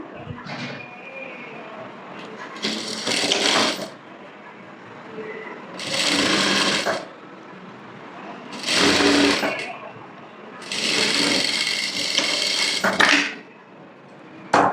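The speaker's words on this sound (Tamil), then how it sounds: "½ இன்ச்சில் ஸ்டிச் பண்ணுறேன்." A sewing machine stitches a blouse hem at half an inch in four loud, rattling bursts of roughly one to two seconds each, separated by quieter pauses in which faint talk can be heard.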